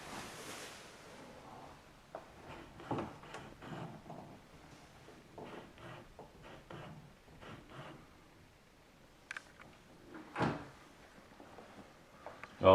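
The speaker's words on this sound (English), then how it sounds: "prior to the door being closed, there's a rub both at the bottom and at the top" House door dragging and rubbing at the bottom and top edges as it swings shut, a series of scuffs and creaks ending in a sharper knock, fairly quiet with room noise.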